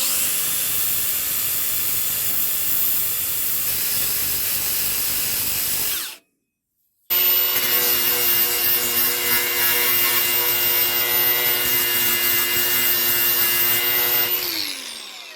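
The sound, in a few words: grinding down metal fork parts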